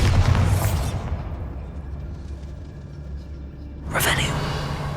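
A Bombarda explosion spell cast in Hogwarts Legacy, a fantasy wizarding game, with a loud burst at the start and a second sharp blast near the end, around a quieter stretch of ambient hum.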